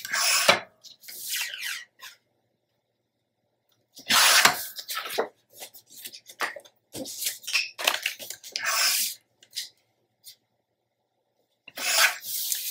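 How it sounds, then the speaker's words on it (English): Rough cutting of patterned paper for a scrapbook page: repeated dry, rasping bursts of cutting and rubbing in short irregular runs, separated by silent gaps, close and fairly loud. "So I'm going to do a rough cut"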